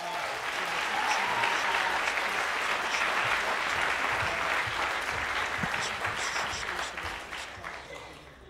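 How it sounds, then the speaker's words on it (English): An audience gives martial arts performers a big round of applause at a launch event, a loud, dense crowd clapping that swells early, holds steady, then tapers off toward the end. "Big round of applause."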